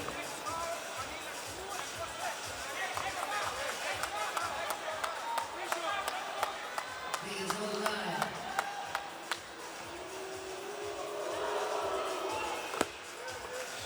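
Home crowd noise at a FIBA basketball quarter-final in Manila, Manila North against Kobe, a steady hubbub with scattered claps and shouts and rhythmic ball bounces, with commentators talking over it.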